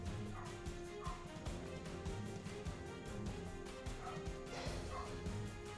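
Dog barks sound off at a distance through a busy, noisy outdoor background, scattered across the clip with a few sharper yips.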